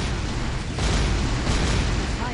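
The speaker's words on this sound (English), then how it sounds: "A stream of fireballs prevents anyone from going further." A stream of fireballs shooting from a trap in a video game, a continuous loud roaring whoosh that swells partway through and holds to the end.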